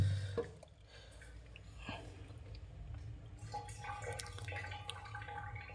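Rinse water being drained out of a kitchen vessel after washing food for cooking, a steady close trickle with scattered drips, moderately loud and continuous against faint household background noise.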